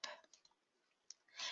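Faint computer mouse clicks sound in a quiet room, a few light, sharp taps spaced unevenly with soft breathy noise between them.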